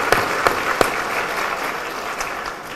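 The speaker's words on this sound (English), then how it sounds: "let's give you all a loud round of applause for everything you do with and for LMA" Applause from a legal marketing conference audience, opening with a few sharp distinct claps before settling into a steady, dense roar of many hands that gradually tapers toward the end.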